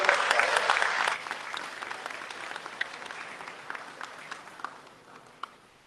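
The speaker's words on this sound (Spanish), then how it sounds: "Fuerte los aplausos." Audience applause at an educational panel on artificial intelligence, loud and dense for the first second, then thinning to scattered individual claps that fade out.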